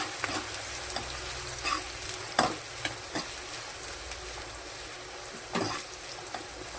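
Onions frying in hot oil for a spinach curry, stirred in the pan: a continuous close sizzle punctuated by sharp scraping clicks of the spoon.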